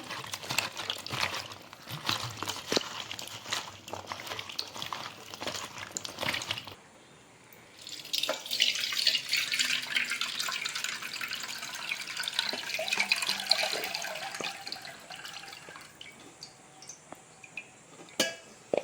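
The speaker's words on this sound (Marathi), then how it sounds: "असे हे धुवून घ्यायचे आहेत तुकडे" Chopped jackfruit pieces are rinsed under a running kitchen tap, with water splashing and gurgling into a vessel, a pause partway through, then more running water and light clinks of the pieces and pot.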